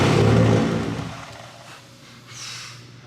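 A rough Nissan R32 Skyline engine, revived after four years and running without exhaust, idles with a partial misfire: a loud, uneven rumble that swells, then eases and falls away.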